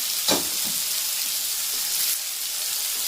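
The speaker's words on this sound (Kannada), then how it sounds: "ಇದೆಲ್ಲ ಫ್ರೈ ಆಗಲಿ." Two onions with cooked toor dal sizzle in a pan for Udupi-style sambar, a close, steady frying hiss with a quick stirring knock near the start and no talking.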